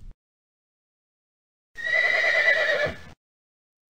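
A horse whinnies once, a loud, wavering neigh lasting just over a second that rises and then trails off, heard alone against silence.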